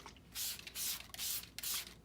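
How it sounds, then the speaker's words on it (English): A spray bottle spritzes rubbing alcohol onto the top of freshly poured cold process soap, giving four close, crisp bursts in a quick, fairly even rhythm with short pauses between them. "Now I'm going to spritz with rubbing alcohol."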